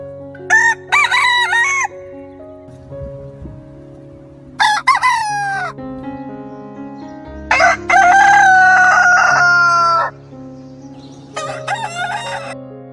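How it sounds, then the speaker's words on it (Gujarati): A rooster crows loudly several times, long drawn-out calls separated by pauses, with a few shorter clucking calls from a hen mixed in, close by and clear. "છે મરઘો અને મરઘી"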